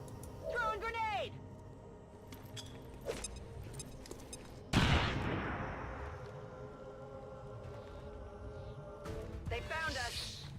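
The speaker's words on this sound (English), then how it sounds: "Throwing grenade!" In XCOM 2, a grenade goes off with a sudden loud blast and a long decaying rumble, after scattered gunshots; brief voices are heard at the start and end.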